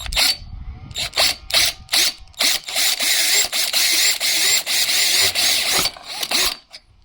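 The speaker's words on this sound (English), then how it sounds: "You're going to need the 5/16 drill bit so you can go ahead and drill the holes." A power drill with a 5/16 bit whirs in a series of short, loud bursts while drilling holes to mount an ARB awning on an Alu Cab rooftop tent, starting and stopping repeatedly, then runs longer and steadier before cutting off.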